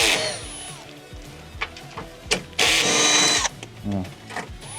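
Bolts being removed with a 10 mm wrench under a Mercedes Sprinter, with loud close metallic clicks and bursts of ratcheting or tool noise under talking.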